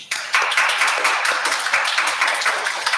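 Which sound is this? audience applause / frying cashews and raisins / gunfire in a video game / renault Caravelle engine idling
audience applause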